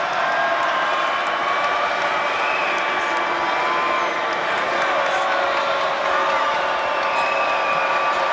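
A basketball arena crowd reacts after a missed free throw with a broad, steady roar of murmuring and jeering voices that holds at an even level throughout.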